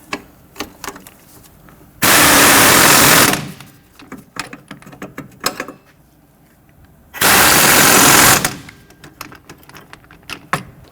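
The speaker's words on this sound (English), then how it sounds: "Just tighten down our strut nuts and bolts." A power impact tool drives the rear strut nuts and bolts on a 1992-1996 Toyota Camry. It fires in two loud buzzing bursts of about a second each, with light clicks and handling noises in between.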